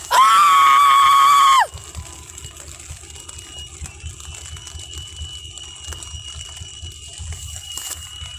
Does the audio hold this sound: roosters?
no